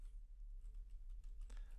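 Light keystrokes on a computer keyboard, several soft clicks scattered across a quiet stretch with a faint background hum, no voices.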